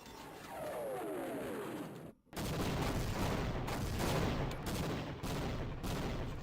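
Continuous rumbling explosions and rapid blasts from an artillery bombardment in Half-Life, loud and dense, briefly cutting out before resuming as sustained heavy fire.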